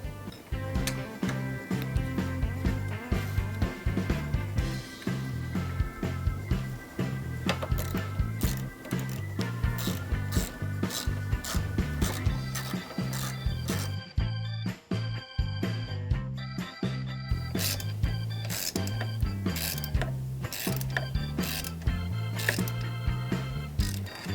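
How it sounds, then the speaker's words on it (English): A hand ratchet tightens the battery hold-down bracket fasteners on a Lexus RX350, clicking in fast, steady runs of ticks close by, with a short pause partway through and no speech. "reinstall the battery hold-down bracket. And retighten the fasteners"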